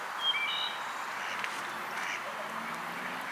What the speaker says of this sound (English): I like the sounds of nature. I'm hearing Birds chirping.